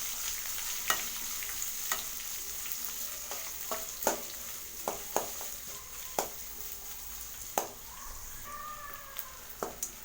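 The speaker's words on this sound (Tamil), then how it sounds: "பெரிய வெங்காயம் இப்போ இதை வதக்கி விட்டுக்கலாம்." Sliced large onions with green chillies sauté in a pan, a soft continuous sizzle broken by regular sharp scrapes and taps of a stirring spoon.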